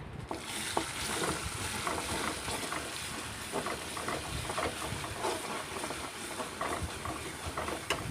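Spices frying in a pan while being stirred, for a banana flower dish cooked with fish belly pieces: a steady dense sizzle with frequent scraping stir strokes throughout, close and moderately loud, no voices.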